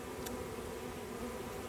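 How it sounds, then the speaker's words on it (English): Bees swarming over a person outdoors, a steady, faint, continuous buzz with no pauses and no one talking over it. "you have so many bees all over you"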